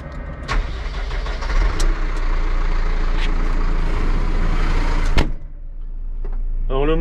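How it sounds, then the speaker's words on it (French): A New Holland Braud 9080N grape harvester's 175-horsepower engine rumbles steadily at close range, with a few sharp horn bursts signalling its start before the running noise settles and fades. "Alors ça c'est le coup klaxon pour dire qu'il va démarrer."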